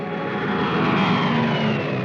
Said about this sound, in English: Weather planes such as this Mosquito